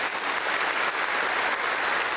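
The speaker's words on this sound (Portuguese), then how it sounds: "Vamos dar uma salva de palmas a Jesus Rei." A Catholic congregation at Sunday Mass breaks into dense, steady applause, many hands clapping together loudly and evenly throughout without a break.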